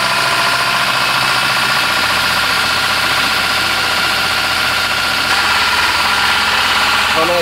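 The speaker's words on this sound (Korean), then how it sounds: "전에 우웅 거리고 체인 치는 소리가 나네" A diesel car engine idling loudly and close, with a dense, steady mechanical rattle from the timing chain running through the whole stretch.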